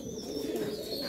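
Pigeons coo softly and continuously in a keeper's dovecote, a low murmuring drone that stays close and even throughout, with faint higher tones above it and no speech.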